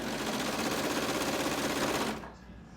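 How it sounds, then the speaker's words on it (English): A sewing machine stitches slowly through several stacked layers of skirt fabric, a steady close rapid mechanical chatter that runs for about two seconds and then stops abruptly, leaving a quiet room tone. "Stitch this slowly because you got to make sure all of those layers are caught up in the stitch."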